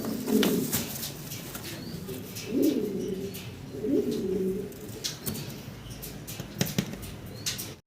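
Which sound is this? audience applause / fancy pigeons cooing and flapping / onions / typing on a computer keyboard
fancy pigeons cooing and flapping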